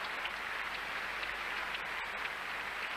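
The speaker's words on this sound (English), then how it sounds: "a tremendous cheer for the little man who has played so well this week" Steady, distant applause from a large tennis crowd at Wembley in 1979, saluting the runner-up at the trophy ceremony, an even wash of clapping without pause.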